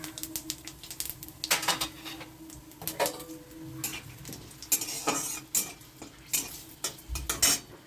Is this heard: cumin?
yes